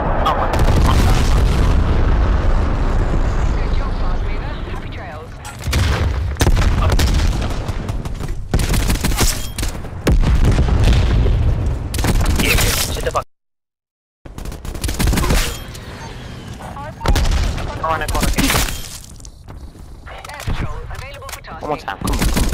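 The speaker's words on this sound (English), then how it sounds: "Enemy cruise missile launch detected." Cruise missile strike and gunfire in the video game Black Ops Cold War: loud booming blasts and rapid gunfire bursts, broken by a brief silent gap, with players talking over the action.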